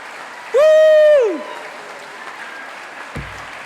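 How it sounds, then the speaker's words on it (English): A large crowd applauds at a University of Manchester graduation ceremony, a steady broadband wash of clapping. A loud, sustained horn-like tone briefly rises over the applause near the start, then the clapping carries on at a moderate level. "you can carry on clapping"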